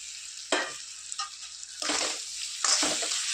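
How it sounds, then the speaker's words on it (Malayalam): Okra dropped into hot oil with frying chili and asafoetida for a Kerala okra pickle, bursts of loud crackling sizzle arriving in several separate surges as pieces are added and stirred, close up. "മുളകും കായവും എല്ലാം മൂത്ത് വന്ന സമയത്തേക്ക് നമ്മൾ ഈ എടുത്തു വെച്ചിരിക്കുന്ന വെണ്ടയ്ക്ക ചേർത്ത് കൊടുക്കാം."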